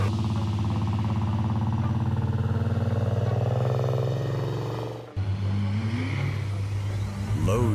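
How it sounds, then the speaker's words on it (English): A big truck engine roaring on an icy, snow-covered road, a loud sustained drone that steps to a new pitch partway through, then rises again near the end. "An engine's roar,"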